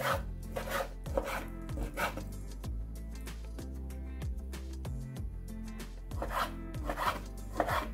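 Repeated knife strokes slice thinly through pork on a cutting board, a rhythmic series of soft chops and scrapes, close up with no talking.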